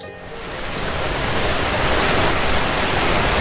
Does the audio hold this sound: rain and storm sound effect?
yes